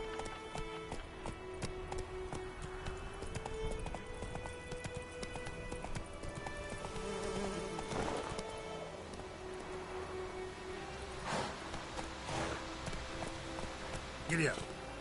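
Hooves clip-clop as a horse gallops in a Witcher video game, a steady rhythmic beat under background game sounds, with a voice speaking briefly.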